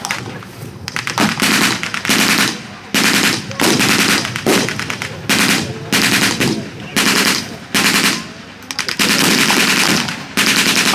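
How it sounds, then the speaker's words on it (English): MG42 machine guns rattle at a World War II re-enactment, loud, rapid bursts of automatic fire in repeated volleys about a second long with short gaps between them, close and dominant. "on the German side, we're using mainly MG42s and machine pistols"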